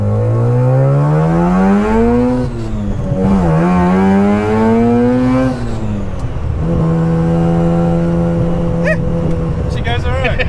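A Mazda RX3 with a 13B rotary engine pulls hard and revs high, the loud buzzing engine note rising steeply through the gears with brief drops at each shift. The car is heard from inside, with people talking over it.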